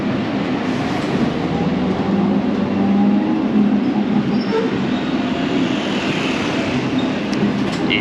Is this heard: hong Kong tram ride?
yes